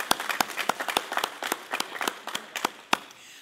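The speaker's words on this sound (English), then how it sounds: "Let's give them a big clap." Scattered, uneven handclaps from a congregation at a Mother's Day church service, a modest burst of individual claps spread over a few seconds rather than a dense roar, fairly close.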